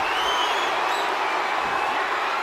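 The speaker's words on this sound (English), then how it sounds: "Look at this crowd." An arena crowd in the WWE 2K24 video game roars in a dense, steady wash of cheering and applause that holds loud and unbroken throughout.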